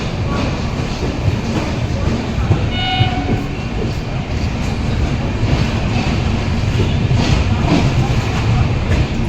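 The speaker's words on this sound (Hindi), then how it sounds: "दूसरे साइड पे खड़ी है कैपिटल एक्सप्रेस" Capital Express passenger train standing at a busy railway station, with a steady rumble of idling rolling stock and platform bustle, brief whistle-like tones partway through, and murmuring crowd voices throughout.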